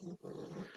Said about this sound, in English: that's my dog making noise